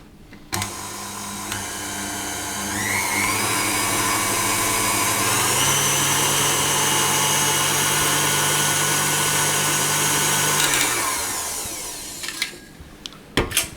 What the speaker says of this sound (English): I'm just going to whisk that round with the dough hook